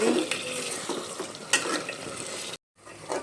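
Mutton being sautéed and stirred in a pan, with a steady close sizzle and scraping stir strokes running throughout, briefly cutting out before resuming.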